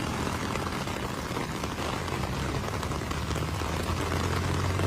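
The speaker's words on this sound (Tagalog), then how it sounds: "bumuhos na naman yung napakalakas na ulan dito." Very heavy typhoon rain pours in Marikina during flooding, a dense, loud, unbroken roar with a deep rumble underneath and no talk.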